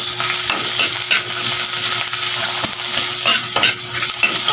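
Garlic and onion sauté in a little oil for corned beef, a loud, continuous sizzle and crackle with repeated scrapes of a utensil stirring the pan, close up and without speech.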